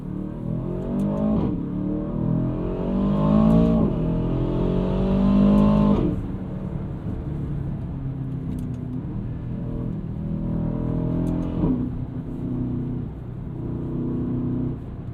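Aston Martin DBX 707 SUV engine under way, a steady low drone and road rumble with rising, swelling revs through gear pulls, loud and continuous from inside the cabin, no talk.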